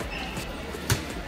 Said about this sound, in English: let's add in those basketball sounds.